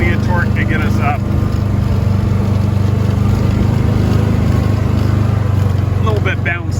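A 2020 Kawasaki Mule SX utility vehicle climbs a steep off-road grade, its engine a loud, continuous close-up drone, with brief voices at the start and end.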